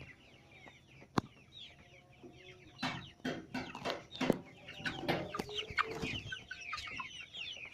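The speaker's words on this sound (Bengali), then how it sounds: "এই দেখতে পারতেছেন মুরগি খুবই চঞ্চল" Tiger chickens cluck and squawk busily at close range, a steady flock chatter with sharp bursts and overlapping calls throughout, no talk.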